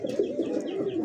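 A pair of Bombay pigeons coos close by in soft, rolling, repeated bursts that run steadily throughout, with no talk over them.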